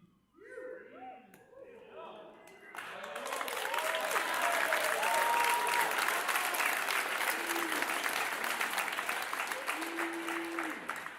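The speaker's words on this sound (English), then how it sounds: "it's amazing to clap for Cody" Audience applause at a business launch-week event, starting after a few seconds of quieter sounds and swelling into steady, dense clapping that holds loud and close through the remainder.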